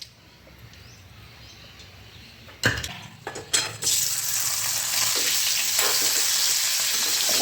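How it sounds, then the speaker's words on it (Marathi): Bitter gourd hits hot oil after a couple of sharp clanks from the pan, then settles into a loud, steady sizzle that holds close and even to the end. "तेलावर परतून घेत आहे"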